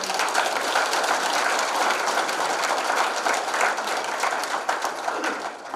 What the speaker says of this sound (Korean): 여러분들 큰 박수 한번 부탁드리겠습니다